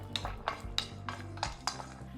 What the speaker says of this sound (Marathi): आता याच तव्यामध्ये आपण लसूण भाजून घेऊया